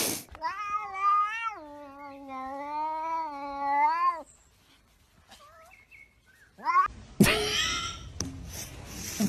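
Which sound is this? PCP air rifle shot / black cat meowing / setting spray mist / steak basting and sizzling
black cat meowing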